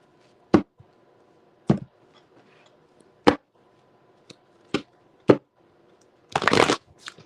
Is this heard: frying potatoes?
no